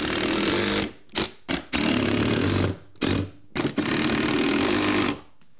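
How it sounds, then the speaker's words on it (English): Power driver sinking 2-inch construction screws through subfloor into old floor joists during a rotted-floor repair: several loud whirring bursts, two long runs and a few short stop-start pulses, close and with no talking. "Now I'm gonna screw this into place with some 2-inch construction screws."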